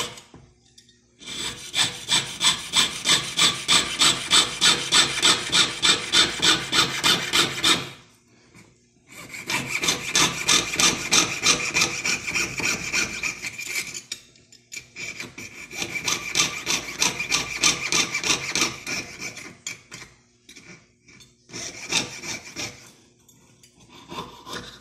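A hand saw cuts through a metal coin being shaped into a Pikachu pendant, giving steady rapid rasping strokes in three long loud bursts with short pauses, then a brief final burst, with no talking.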